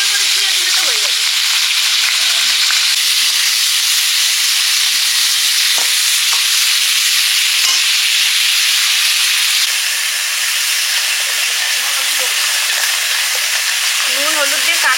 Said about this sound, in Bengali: কাঁকড়াগুলো ভেজে নিচ্ছি।